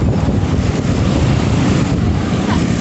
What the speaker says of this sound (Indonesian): Di atas anginnya besar kali.